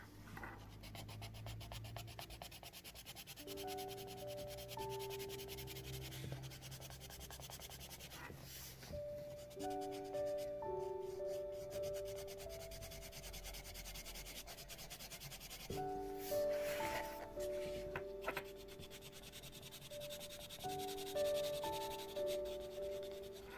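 Colored pencil pressed hard against paper while filling mandala petals, a continuous scratchy rubbing in repeated strokes, close and quiet, with soft piano music playing underneath.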